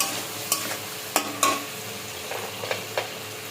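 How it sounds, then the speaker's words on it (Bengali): Cumin ginger paste fries in a pan for fish curry, a steady sizzle broken by several sharp scrapes of stirring, heard close with no voices. "জিরে আদা পেস্ট করাটা দেবো, এবার দিয়ে ভালো করে কষাবো।"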